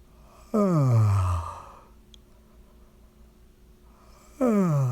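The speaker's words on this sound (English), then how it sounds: "breathe in, you almost want to do it like a yawn." A long, loud yawning inhale with a falling voiced tone, followed by a quiet pause, then another yawn-like breath beginning near the end.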